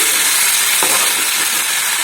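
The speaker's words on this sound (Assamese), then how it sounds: "এইফালে কুন্দুলি ভাজি আছোঁ" Steady broadband sizzling of ivy gourd frying in a pan, continuous and fairly loud, with a brief stir or scrape partway through.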